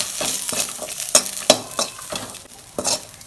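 Ridge gourd peel and coconut sautéing in a pan: a steady sizzle under repeated scraping strokes of a spoon stirring in an uneven rhythm, close up and fairly loud.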